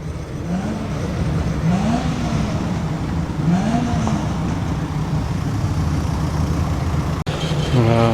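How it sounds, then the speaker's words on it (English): A TVR Griffith classic sports car creeps slowly over slightly uneven ground at an outdoor car meet in Malpas, its engine a low steady burble with gentle rises in revs, fairly close, then a sharper rev near the end. "Taking it very easy over the slightly uneven ground. TVR Griffith."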